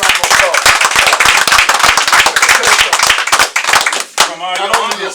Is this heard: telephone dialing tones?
no